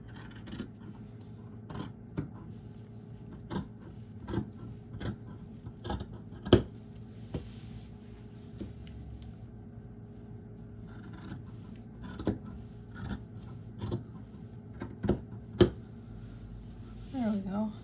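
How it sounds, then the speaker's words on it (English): Scissors snipping into craft material from the corners toward a marked dot for a gnome figure, a slow series of crisp cuts spaced a second or two apart, close and quiet, with faint rustling between them. "we want to start at the corners and cut towards that dot."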